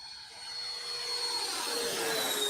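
An RC model airplane flies past, its engine giving a smooth, steady whine that swells gradually as it draws nearer, with no one talking.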